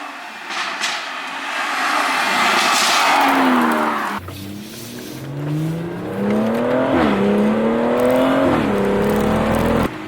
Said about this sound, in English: this M Performance exhaust, straight catback, I think sounds better